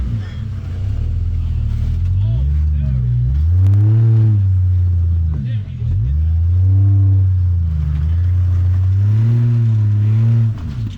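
An off-road vehicle crawls over massive boulders in tight spaces in West Virginia. Its engine loudly and closely revs up and down in repeated surges and then settles back to idle.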